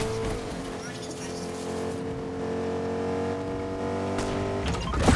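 A car in Fortnite drives with a sustained engine drone that holds steady and loud, then swells briefly near the end, with game effects around it.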